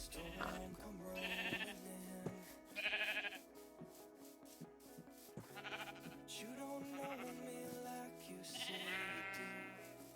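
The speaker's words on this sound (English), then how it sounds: "Shut up, sheep. Nobody asked you." Several sheep bleats from Minecraft, each a short wavering cry spaced a few seconds apart, over steady background music in the game.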